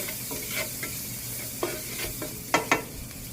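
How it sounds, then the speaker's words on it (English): Margarine sizzling in a pan with pasta primavera and bratwurst ingredients, a soft steady fry crossed by irregular spatula scrapes and clacks, the last two sharper and louder. "Let's stir it in, get it going here."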